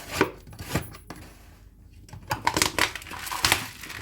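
A closed drum of olives packed in salt gets shaken, giving irregular bursts of gritty rattling and crunching with a brief pause in the middle.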